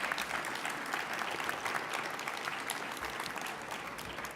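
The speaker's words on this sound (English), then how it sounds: "let's give all of these students a big round of applause" A crowd at a student accessibility design competition gives a steady round of applause, even and continuous throughout with no talk over it, heard from within the hall.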